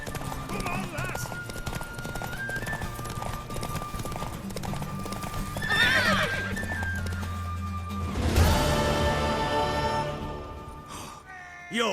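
A horse in The Witcher 3 clip-clops steadily at close range, then gives a loud whinny near the end, with game dialogue and voices talking over the hoofbeats.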